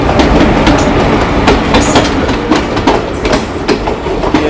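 A passenger train made up entirely of general coaches passing close by near Mokama Junction in India, loud continuous rolling roar with repeated clickety-clack wheel beats over rail joints.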